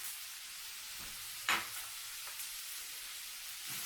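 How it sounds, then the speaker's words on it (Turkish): Minced meat frying in a pan for Bafra-style pide, a quiet steady sizzle with one sharp stir or scrape near the middle, no talking. "Bunu birazcık kavuracağım."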